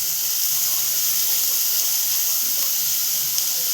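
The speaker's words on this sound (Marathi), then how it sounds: "इथे कांदा चांगल्या प्रकारे असं परतवून घेऊया आपण" Chopped onion sautéing in a pan for a Marathi dal-onion dish, giving a steady, close hiss of frying that carries on without a break throughout.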